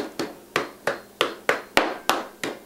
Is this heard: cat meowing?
no